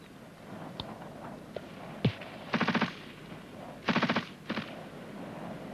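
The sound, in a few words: machine gun covering fire in infantry training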